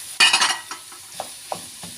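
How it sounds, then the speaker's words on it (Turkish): Minced meat, 300 grams, dropped into a hot pan for a mantı filling, a sharp burst of sizzling followed by several separate, spaced scraping stirs, close and fairly loud with no talking. "Arkadaşlar 300 gram kıymam var. Bunu da dökeyim içine."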